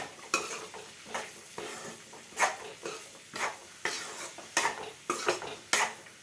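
A spoon scrapes and clanks through a beans and tomato curry in a pan, Telangana style, in repeated rhythmic strokes over a light sizzle.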